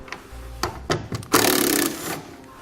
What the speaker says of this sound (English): We'll use an 8mm socket to remove the 2 screws that hold the tail light on.